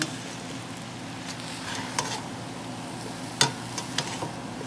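Mushrooms and asparagus sizzle steadily in a hot pan as they are stirred and tossed, a constant close frying hiss broken by a few sharp clicks and taps from the utensil, with no talking.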